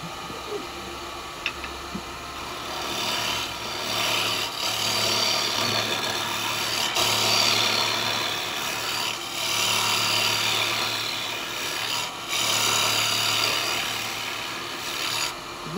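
Woodturning chisel hollowing into wet eucalyptus on a lathe to shape a cowboy hat, a steady rasping, rubbing cut that continues throughout with small shifts in pressure, close and fairly loud.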